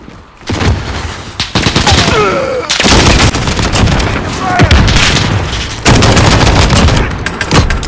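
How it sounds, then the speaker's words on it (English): Belt-fed machine gun in the video game Modern Warfare, loud close bursts of rapid automatic fire in several long strings with brief gaps, heavy booming reports layered over one another. "he's just gonna sit there and he's gonna just fire rounds off"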